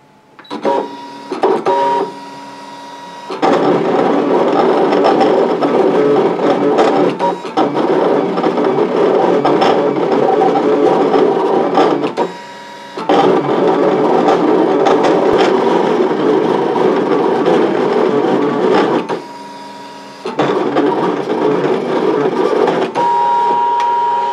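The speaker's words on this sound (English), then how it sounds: "Okay, and we go cut." A Brother ScanNCut machine cutting cardstock runs in long, loud mechanical whirring stretches broken by short pauses and clicks as the head moves and repositions.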